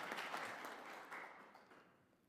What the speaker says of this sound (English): May we please give everyone a round of applause